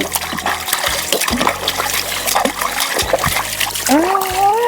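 Cold water splashes and trickles steadily while someone bathes, with scattered splatters close by and a voice briefly heard near the end.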